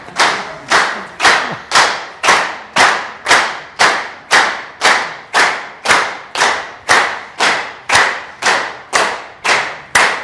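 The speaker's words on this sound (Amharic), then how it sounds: "በዚህ ጭብጨባማ እንደውም እዛው ነው።" An audience at a business training session claps together in a steady rhythmic beat, around twenty loud synchronized claps spaced roughly half a second apart, with no voices over them.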